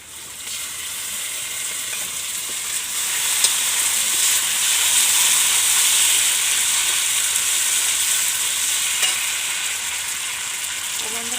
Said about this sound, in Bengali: মোটামুটি ভাজা হয়ে গেছে, আমি দেব প্রথমে শুকনো লঙ্কা বাটা।